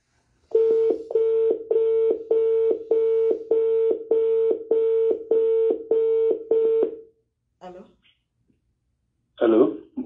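A phone dialing to call back someone in Guinea: a steady run of about a dozen identical, evenly spaced tones, then short silence, then a couple of brief voice sounds.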